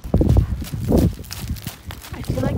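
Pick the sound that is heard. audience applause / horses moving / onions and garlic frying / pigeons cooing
horses moving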